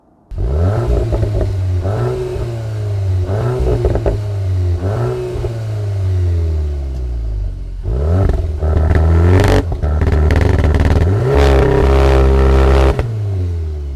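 Volkswagen T-Roc R with an optional Akrapovic titanium exhaust revs hard and repeatedly, rising and falling engine blips close by, with popping and crackling on the overrun between revs.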